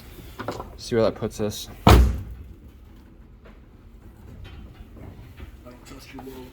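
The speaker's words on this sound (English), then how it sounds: "Let me close the door." A person speaks briefly, then a drift car's door shuts with a single heavy thud, followed by a quiet, muffled interior.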